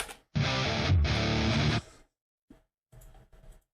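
Distorted electric guitar through a Mesa or 5150 amp with a Friedman cabinet impulse response, recorded for a metal song, plays one loud, thick chugging burst of about a second and a half, then cuts off, leaving a few short, quieter stabs.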